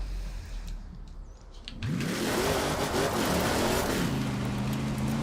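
In the racing video game Forza Horizon 4, after a quiet start a Jeep Trail car engine suddenly kicks in and revs up, its pitch climbing and holding as it accelerates hard.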